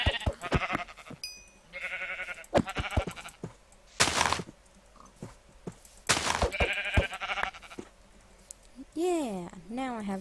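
Sheep in Minecraft bleat several times in short wavering calls, mixed with blocky game thunks and clicks, while a player talks over the gameplay.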